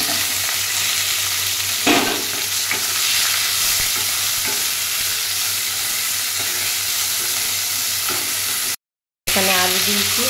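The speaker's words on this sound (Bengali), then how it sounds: "আলু আর বটবটি কড়াইটা ভালো করে ভেজে নেব" Potatoes and bori (dried lentil dumplings) frying with panch phoron spices in an iron kadai, giving a steady loud sizzle with occasional stirring scrapes throughout, briefly cut out near the end.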